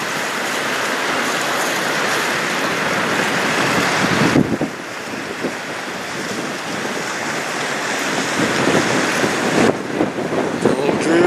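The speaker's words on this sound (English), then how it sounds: "it's a little windy" Steady roaring wind noise buffeting the microphone beside the St Clair River, loud and continuous, with a brief drop in the middle before the rush returns.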